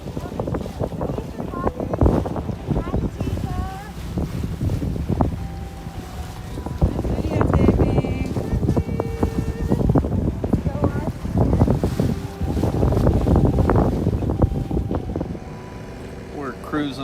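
Sailboat cruising 100 miles offshore on the passage from San Diego to Oahu, with constant wind buffeting and rushing water, and people talking over it intermittently.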